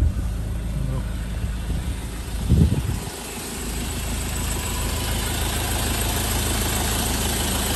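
Land Rover Defender 110 Adventure Edition with a 2.2 TDCi Puma diesel engine idles steadily, a continuous low rumble with a brief louder rev or knock partway through.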